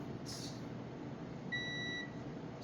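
A single short electronic beep from a multimeter continuity test, a clear high tone lasting about half a second, sounds over a quiet background hiss.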